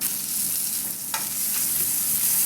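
Chicken pieces fry in bacon fat in a pan with a loud, steady sizzle close by and a brief clink of movement partway through, no voices.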